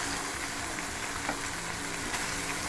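Dry anchovies (nethili karuvadu) coated in masala sizzle and fry in peanut oil in a kadai, a steady, even crackle with no talking.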